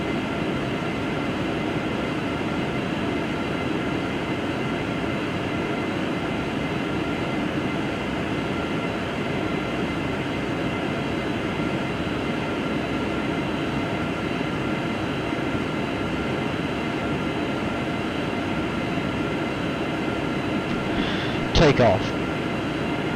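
Inside the cabin of a Boeing 757 during the takeoff roll from Dubai, the jet engines make a steady, loud broadband roar that holds throughout, with a brief sharp knock near the end.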